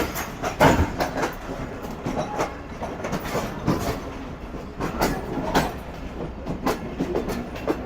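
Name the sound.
Karakoram Express train pulling out of platform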